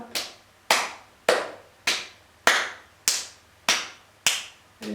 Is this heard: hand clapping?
yes